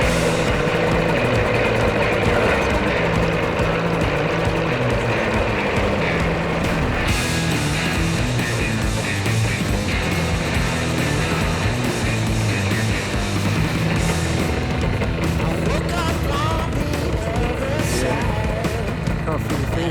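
A paramotor engine with its propeller runs loudly and steadily at close range, a dense droning roar that persists throughout, with voices talking over it.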